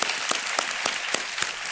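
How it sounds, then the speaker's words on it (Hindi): A television quiz show studio audience on Kaun Banega Crodpati claps to welcome a female contestant, a full, close burst of applause with distinct rhythmic claps pulsing through the crowd noise. "एक बार फिर तालियों के साथ हम आपका स्वागत करते हैं"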